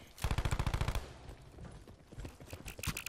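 Rapid automatic gunfire rattles in a quick burst of about a dozen shots in Call of Duty Black Ops 4, followed by scattered softer shots and game noise.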